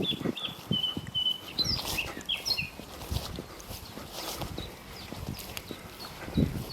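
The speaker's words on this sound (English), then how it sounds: "Lots of birds if you can hear them." Small birds chirp and sing faintly beside a canal at Bunbury staircase locks, with short high calls scattered over a stretch of irregular knocking and clopping sounds nearby.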